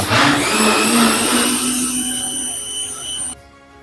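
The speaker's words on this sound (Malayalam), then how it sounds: "ഇതിലേക്ക് പഞ്ചസാരയും അതുപോലെ തന്നെ ഐസ്ക്രീമും ചേർത്ത് നന്നായി അടിച്ചെടുക്കുക." An electric blender whirs loudly and steadily, mixing sugar and ice cream for a Kannur cocktail, its pitch sliding down slightly before it cuts off abruptly near the end.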